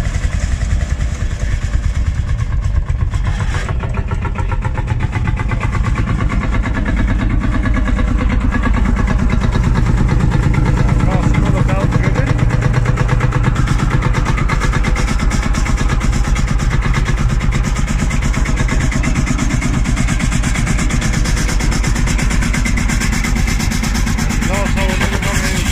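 Vintage tractor engines run at the Marshall yard in Gainsborough, a steam and vintage vehicle yard, a loud, steady, close chugging rumble that continues throughout while a person talks over it.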